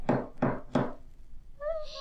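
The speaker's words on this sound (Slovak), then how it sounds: "Naozaj, kto si klope?" Three firm knocks on a wooden door in a Slovak audio fairy tale about little goat sisters, evenly spaced and close, followed by a short high-pitched voice.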